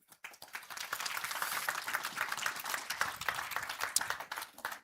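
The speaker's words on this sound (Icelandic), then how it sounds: "Bara gefa þeim gott klapp." A church congregation in Reykjavík claps after a worship song, starting with a few scattered claps that quickly swell into steady, close applause and carry on evenly for several seconds, with no voices over it.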